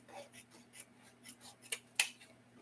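Scissors cut ribbon for a candy cane wreath, giving two crisp snips close together near the end against a quiet room hum.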